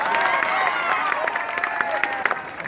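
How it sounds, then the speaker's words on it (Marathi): A crowd at a public gathering applauds the bouncers, many hands clapping hard amid cheering and shouts, with some whistle-like tones riding over the dense clatter. "इथं जे काही बाउन्सर आले त्यांच्यासाठी एकदा जोरदार टाळ्या होऊ द्या"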